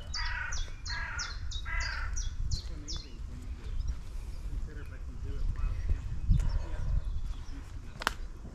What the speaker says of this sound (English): I'm enjoying the birds noise